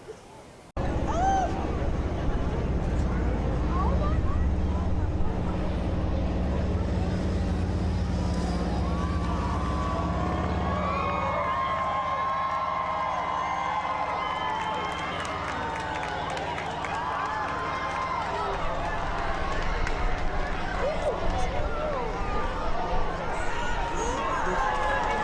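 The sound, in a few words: rooftop crowd awaiting total solar eclipse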